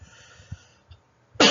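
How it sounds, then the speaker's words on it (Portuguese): A single short cough or throat-clear comes from a person indoors, faint and isolated, followed by a sudden louder burst of noise at the end. "Tossindo um pouquinho."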